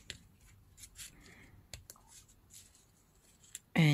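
Scissors snip around cardboard circles cut from a box, with quiet scattered clicks and soft rustling of the material, and a louder burst of sound right at the end.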